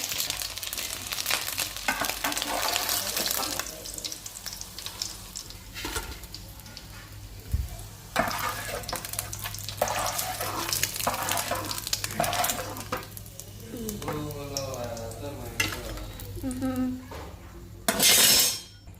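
Chopped onion and green chillies fry in a pan of oil in a home kitchen, a soft sizzle under scattered clinks and scrapes of a utensil against the pan, ending in a brief louder clatter.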